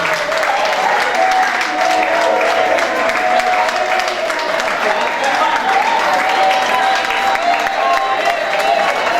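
A crowd at a birthday celebration applauds and cheers a guest, loud continuous clapping with voices mixed in, sustained evenly from start to end.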